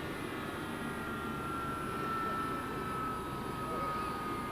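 Air New Zealand airliner bearing an America's Cup livery, arriving after a 12-hour flight from Los Angeles to bring the team home: a steady, loud engine roar with a faint whine, continuous throughout under crowd noise.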